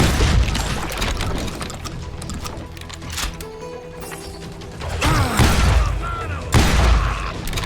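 Gunfire from the video game Call of Juarez: Gunslinger, heavy booming shots and thuds bursting in dense clusters, loudest near the start and in two later volleys, with game voices talking between them.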